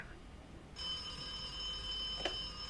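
A telephone rings in the video game The Occupation, with a sustained electronic tone that starts partway through and carries on over quiet room ambience. A brief click sounds near the end.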